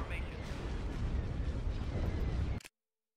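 Starship weapons fire and explosions rumble continuously in Star Wars Empire at War, a dense, low booming barrage that holds steady for a few seconds and then cuts off abruptly to silence.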